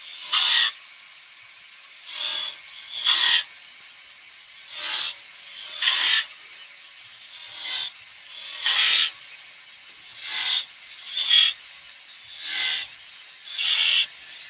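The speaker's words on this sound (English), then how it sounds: "it's easier, don't do that, to mark out with the skew tool, just with some V-cuts." A skew tool cuts V-cuts into wood spinning on a lathe, giving about a dozen short, sharp hissing rasps in an irregular rhythm, close and clear with no talk.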